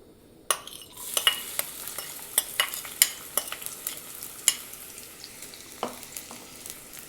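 Chopped onions sautéing in hot oil in a pot, a steady sizzle broken by repeated clinks and scrapes of a spoon stirring, close and moderately loud with no voices.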